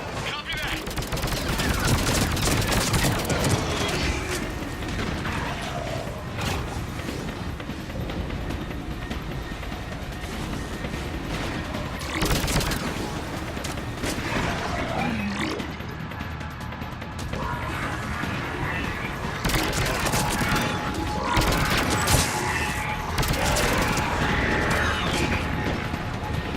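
Sustained gunfire in the Mass Effect 3 Leviathan DLC, volleys of shots and bursts rattling almost continuously for the whole stretch, with louder crashes and heavy hits mixed into the dense combat din.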